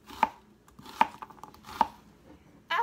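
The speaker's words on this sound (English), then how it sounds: "And the onions, I'm just going to slice them." A knife slices onions on a cutting board with three distinct, evenly spaced chops, each sharp and close. A fourth cut starts at the very end.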